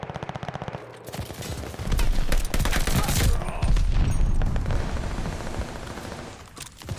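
STG44 assault rifle fire in Call of Duty Vanguard comes in rapid automatic bursts, loud and close, with a brief pause before a longer sustained volley that trails off.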